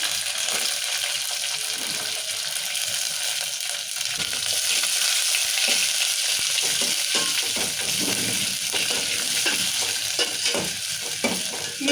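Curry leaves and onions frying in hot oil for a red lentil dalcha, a steady dense sizzle with scraping stir strokes growing busier in the second half, close and continuous with no talk.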